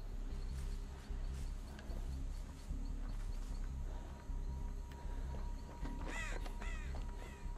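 A crow caws a few times in the horror video game Dead by Daylight, rising near the end over a dense, rumbling ambient bed of wind and low noise.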